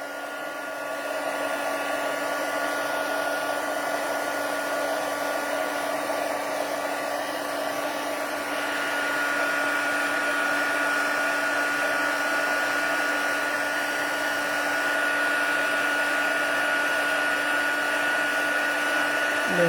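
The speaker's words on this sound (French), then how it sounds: "Le temps de faire chauffer le pistolet." A heat gun blows a steady, loud whirring hiss to melt embossing powder for heat embossing, running continuously and alone from start to end.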